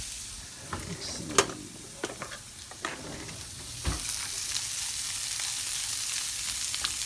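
Gumbo ingredients hitting a pot and sizzling, with a few knocks and scrapes as they slide in, then a steady close frying hiss that settles and continues, no talking.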